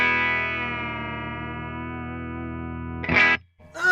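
Trebly Fender Jazzmaster offset electric guitar run through effects such as distortion and chorus, a sustained bright chord ringing loud for about three seconds before two sharp, aggressive picked attacks.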